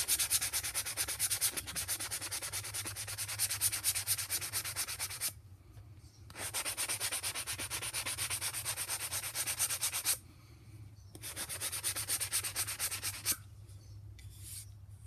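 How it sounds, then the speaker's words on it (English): Steady rhythmic rasping of sandpaper rubbed back and forth on an old Kent pattern carving axe's wooden handle, close up, in three long bursts separated by brief pauses. "while I'm sanding, I'm going to sand this whole handle down"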